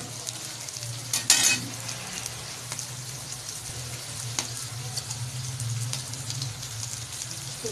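Goat liver (kaleji) fries in a handi with a steady, close sizzle and crackle, a low hum running underneath and a few sharper spits and stirring clinks along the way.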